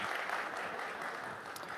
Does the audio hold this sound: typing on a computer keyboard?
no